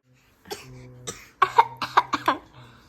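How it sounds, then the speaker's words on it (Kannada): A boy coughs: two single coughs are followed by a rapid run of five or six sharp, close coughs, all clear and loud against near silence. "ನಿನ್ನ ಕೆಮ್ಮು ಹಂಗೆ ಕೆಂಬಾರ್ದು"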